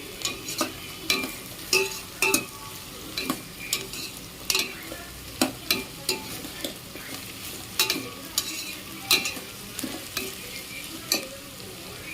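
Onion, beans, carrot and peas being sautéed together for vegetable biryani, with repeated scraping stirs of a spoon against the pan over a steady low sizzle, evenly paced and close, with no talking.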